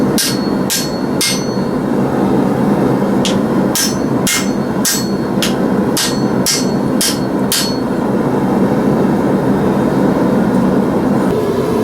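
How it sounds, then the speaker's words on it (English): Sharp metallic brass hammer strikes on a forged axe head ring out in quick bursts of two and three, close and loud, over a steady background hum. "Use a brass hammer to do that so I don't mar it up."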